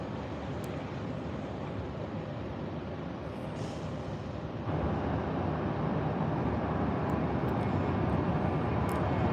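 Airliners taxiing for takeoff at Tampa International Airport during a busy rush hour, a broad continuous jet engine roar at middle distance that grows slightly louder partway through, with no speech.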